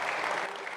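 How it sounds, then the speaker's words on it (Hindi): A short burst of steady audience applause, dense and even, with no voices over it. "जोरदार तालियां"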